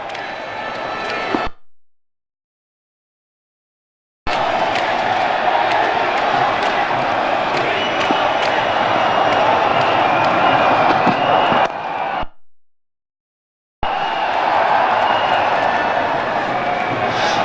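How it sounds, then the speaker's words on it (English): A loud cricket stadium crowd chants and roars during an India versus Sri Lanka Champions Trophy match, a continuous wash of massed voices broken by two abrupt gaps of silence. "The crowd chanting Dhoni, Dhoni"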